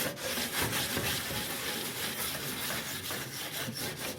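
A coarse scrubber rubs back and forth across the main surface of a wood cook stove, giving steady, close, gritty scraping strokes with a continuous rasping texture and no talk.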